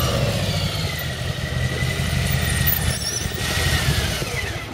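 A 2019 Harley motorcycle idles at low speed as the rider works the throttle in a steady rhythm, giving a constant low engine rumble with faint high squeals above it.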